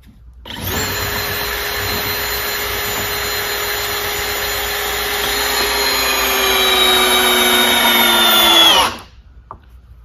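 A cordless power drill drives a screw into fresh wood, a loud continuous whirring motor running steadily for about eight seconds, its pitch rising slightly under load before stopping abruptly.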